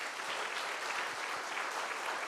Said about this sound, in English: I'd like all of us to give a huge round of applause to Kaajal